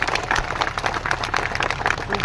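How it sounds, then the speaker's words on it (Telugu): An audience at a patriotic Indian public function claps loudly and steadily, a dense wash of applause with scattered crowd noise continuing throughout. "తెలిసిన వాళ్ళు ఒకసారి గట్టిగా చప్పట్లు కొట్టండి"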